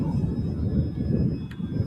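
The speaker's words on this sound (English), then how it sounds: "That looks like a fun plane." RC model airplane passing overhead on a warm day at a flying field, a low rumbling engine drone with a faint high whine, steady and moderately distant.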